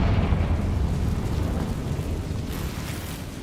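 An explosion spell goes off in Hogwarts Legacy on PlayStation 5: a loud, sustained blast roars steadily and fades only slightly over a few seconds, with a brighter hiss flaring near the end.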